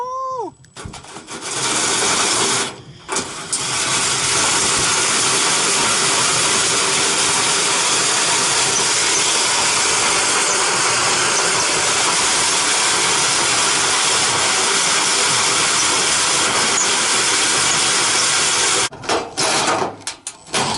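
A Makita power tool cuts through metal on a crushed-seam vehicle body rebuild, giving a loud, continuous, harsh grinding roar that runs almost unbroken for about twenty seconds.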